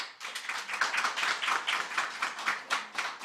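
An audience at a BCom graduation ceremony claps steadily in warm, even applause that stays strong for the whole stretch, with no voices over it.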